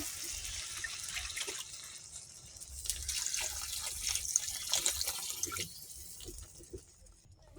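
Water poured into a pan of fried-down potato and Malabar spinach seed curry, a soft steady splashing and trickling that swells in the middle and fades near the end, fairly quiet with no talk.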